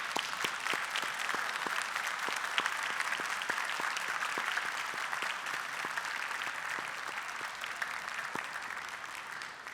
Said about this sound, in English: turn around and just to clap our friends and family for supporting us through it